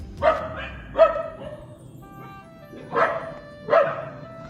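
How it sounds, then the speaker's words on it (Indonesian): A dog barks four times at a moderate distance, in two pairs separated by a short pause, with quiet background in between. "sama berhenti karena ada suara gonggongan anjing juga ya"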